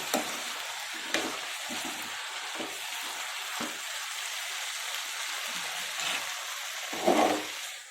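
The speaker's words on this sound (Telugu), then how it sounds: "ఫ్రై అవుతున్నాయి." Vegetables for a vegetable pulao fry in a pan with a steady, close sizzle, broken by several sharp scrapes and clatters of stirring; no one speaks.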